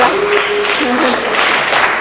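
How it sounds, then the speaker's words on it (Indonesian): A group claps together in applause for a pull-up count of 17 in one minute, a steady burst of hand claps lasting the whole stretch with a voice heard faintly beneath. "Tepuk tangan itu udah maksimal 17"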